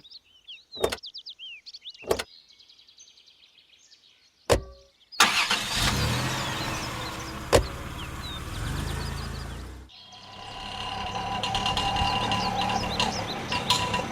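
Car engine turning over and starting as the vehicle moves off, a few sharp clicks and a door-like thud first, then a loud steady engine rumble that dips briefly and builds again, near and with no talking.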